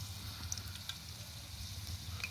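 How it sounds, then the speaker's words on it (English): Fish frying in a hot pan over a fire outdoors in Jamaica, a soft, steady crackling sizzle with faint pops, quiet and close. "Fry up some fish and thing"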